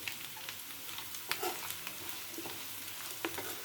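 Chili powder fried in a pan with potato pieces for a home-style potato fry, giving a steady low sizzle with occasional stirring scrapes and clinks, fairly quiet and continuous, with no talking.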